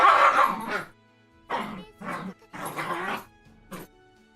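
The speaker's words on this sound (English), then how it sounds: "Dogs behind me are going to drive me nuts." Dogs barking in the background behind someone playing a game, several separate bursts of yips and barks with short pauses between them, moderately loud, with some talk mixed in.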